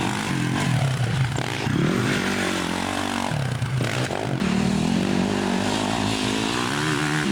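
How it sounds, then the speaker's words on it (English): Four-stroke dirt bikes riding on hard-packed terrain, a continuous loud engine drone with shifting revs and harmonics rising and falling, several machines blending together close by, with no talk. "we all picked up 4-strokes and went for a ride on some more hard-packed terrain"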